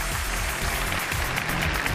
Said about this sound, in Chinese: 掌声有请这一队，有请。